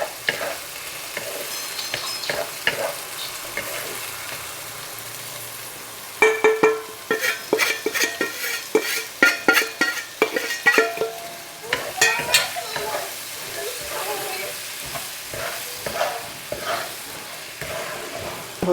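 Semolina and frozen peas being stirred in a hot pan for upma, starting with a low steady sizzle, then a long run of sharp, rhythmic spatula scrapes and clacks, close and moderately loud, with no voices.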